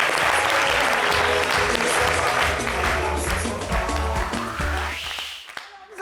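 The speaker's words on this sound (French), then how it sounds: "on applaudit pour lui." Studio audience on a French television variety show clapping loudly and continuously, dense applause heard close before tapering off near the end, with cheering voices mixed in.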